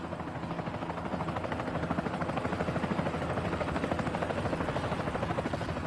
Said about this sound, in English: The small helicopter can barely lift her